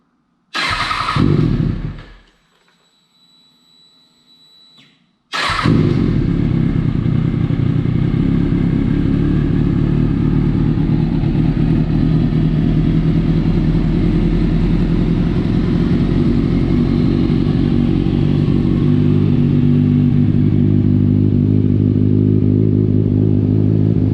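A Kawasaki Ninja 636 sport motorcycle engine, restored from a wreck, cranks briefly, cuts out, then fires up and settles into a loud, steady idle that runs on close by, with no talking.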